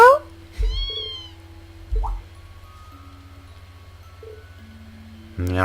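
A person's voice imitates a cat, giving several short meows spaced apart against quiet game background music, the mews rising and bending like a kitten's call, with a louder one at the end.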